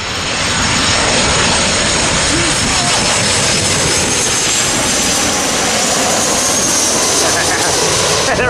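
Jet airliner arriving at LAX, a loud, steady broadband engine roar that fills the whole stretch without letting up, heard close by.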